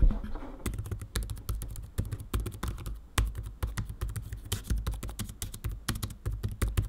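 Typing on the keyboard of a Dell XPS 13 Skylake laptop, recorded close up, gives fast, irregular, soft, slightly spongy key clicks with brief pauses between bursts.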